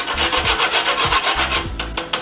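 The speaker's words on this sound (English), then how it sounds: "I love it when I grate a nutmeg" Fresh nutmeg scraped against a grater in steady back-and-forth strokes, close and fairly loud, with a rhythmic rasping texture and no talking.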